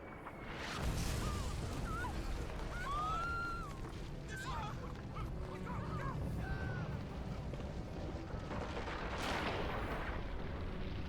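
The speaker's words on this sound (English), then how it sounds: "That's artillery is what that is." Distant booming artillery fire in the war game Valkyria Chronicles, deep rumbling blasts with a louder burst near the start and another near the end, mixed with other battle sounds and faint talk.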